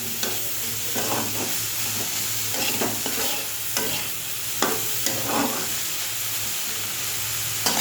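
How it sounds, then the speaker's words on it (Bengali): Green and dry chillies sizzle in hot oil in a pan, a continuous close frying crackle with small pops and stirring scrapes throughout. "এই দুটো কাঁচা লঙ্কা দিয়ে, ওখানেও দুটো শুকনো লঙ্কা ফোড়ন দিয়েছি।"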